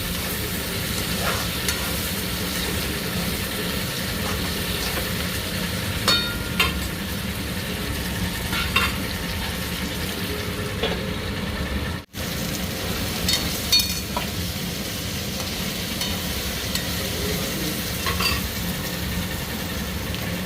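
Tomato going into a pan of fried potatoes and onions with chillies for aloo poha, giving a steady close sizzle with intermittent scraping stirs throughout and no talking.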